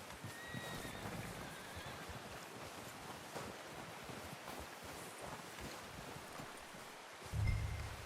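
A horse whinnies in a video game, a faint neigh rising over steady wind and wave-like ambience, with a soft thud near the end.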